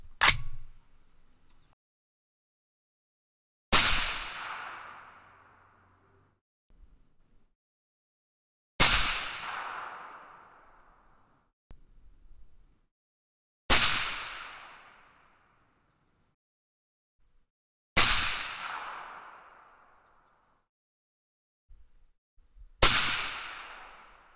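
A 6mm ARC rifle firing reloaded ammunition (30 grains of PowerPro 2000MR powder) fires six sharp, loud shots spaced about four to five seconds apart. Each crack rings out and decays quickly, with near silence between shots.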